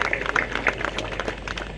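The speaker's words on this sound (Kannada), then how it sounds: "ಅವರಿಗೂ ಕೂಡ ಒಮ್ಮೆ ಜೋರಾದ ಚಪ್ಪಾಳೆಯೊಂದಿಗೆ ಸ್ವಾಗತ ಸುಸ್ವಾಗತ" Audience applause welcoming a chief guest at a Basava Jayanti celebration, steady clapping from a crowd at moderate volume, continuing without pause.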